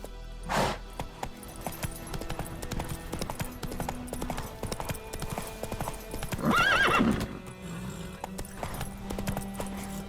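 Roach the horse gallops in The Witcher 3, a steady rapid hoofbeat rhythm running throughout over game ambience, with a loud neigh rising midway.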